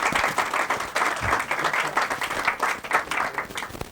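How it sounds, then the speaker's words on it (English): Applause from an audience at the US Copyright Office in 1987 honours Jody for her work, a dense, lively burst of many hands clapping close by that rises and dips unevenly for several seconds. "So, Jody, we'd like to give you a little round of applause for your good work."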